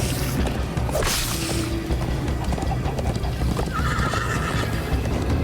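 A horse in Minecraft: Story Mode whinnies loudly, then hooves clip-clop at a gallop beneath more neighing, with game-style effects in the background.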